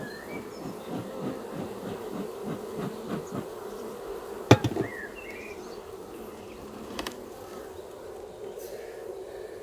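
Honey bees at a hive during a swarm check in snowfall, a steady insect-like buzz humming throughout, with a few sharp knocks and clatters partway through and faint voices in the background.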